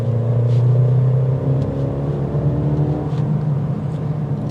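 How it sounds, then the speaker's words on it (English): A 2022 Mercedes-AMG GLB 35 with the AMG Speed Shift DCT transmission accelerates onto the interstate, its engine rumbling loudly from inside as rising tones climb and shift. "we're going to see how it goes onto the interstate to give it a little gas."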